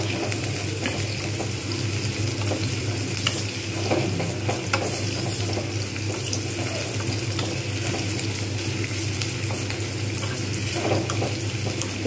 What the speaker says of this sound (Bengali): আমি একটু প্রথমে বাড়িয়ে নিচ্ছি যাতে তাড়াতাড়ি পেঁয়াজটা একটু ভালোভাবে ভাজা হয়ে যায়